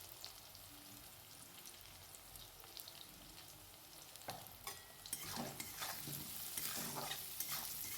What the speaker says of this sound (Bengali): আবারও একটু ভেজে নেব